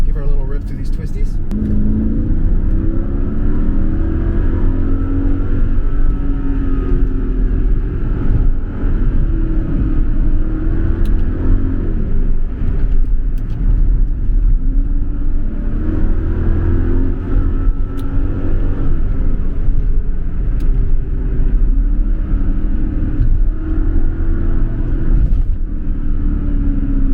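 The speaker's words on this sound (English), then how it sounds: "let's go ahead and give her a little rip through these twisties" A Mercedes CLK55 AMG accelerates hard along twisty roads, its engine droning and rumbling steadily from inside the cabin for the whole stretch while someone talks over it.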